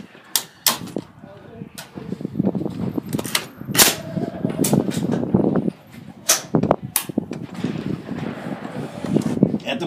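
A Yugoslavian SKS M59/66 rifle is fired outdoors, a series of sharp, loud cracks spaced irregularly across the stretch, with wind rumble and some handling noise between shots.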